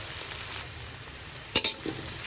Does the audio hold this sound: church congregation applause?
no